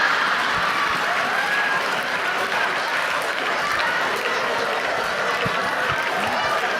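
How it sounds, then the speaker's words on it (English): Continuous audience applause at a motivational talk, a dense steady clatter of clapping with a few sharper claps standing out. "Give yourselves a big round of applause again."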